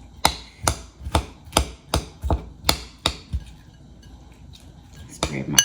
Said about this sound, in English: So right now we're just gonna mix this up. Mix it up real good.